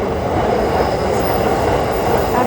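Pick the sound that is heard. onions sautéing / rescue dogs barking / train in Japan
train in Japan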